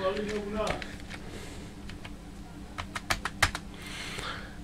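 A password is typed on a computer keyboard in a short run of separate key clicks, close and moderately loud, with a person talking over part of it.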